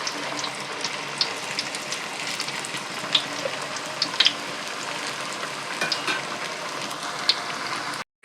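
Bottle gourd vada sizzles steadily in hot oil, a continuous crackling fry with small sharp pops scattered throughout and no voices.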